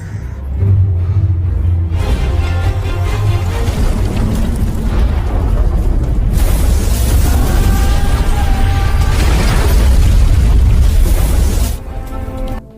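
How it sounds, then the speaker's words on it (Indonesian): Bombs planted in a house detonating in a film scene, loud sustained booming blasts with rumbling low end and crackling debris, continuous for several seconds before cutting off. "Jack meledakkan sejumlah bom yang sebelumnya sudah ia pasang di rumah itu"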